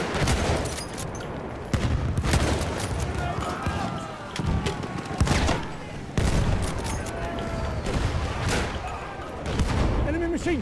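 Enemy machine gun fire in the video game Battlefield 1, repeated loud bursts of rapid gunshots cutting in and out over a busy battlefield backdrop, with players talking throughout.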